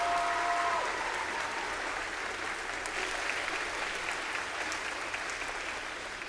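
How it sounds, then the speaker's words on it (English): Sustained applause from an audience at a high school veterans assembly, honoring an unarmed exhibition drill team; steady, dense clapping fills the room, with a brief tonal whistle near the start, tapering slightly toward the end. "give another round of applause to our Thunder Guard unarmed exhibition team"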